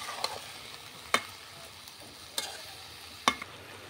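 Mixed vegetables sizzle softly in a pan while a utensil scrapes through them in three or four distinct, spaced strokes over a steady low frying hiss.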